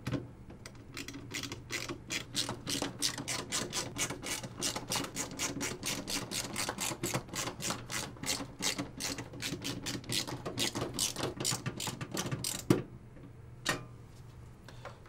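Short screws are driven one by one to fix a water-cooling radiator to the top of a PC case, making a rapid, fairly quiet series of ratcheting clicks that stops after about twelve seconds.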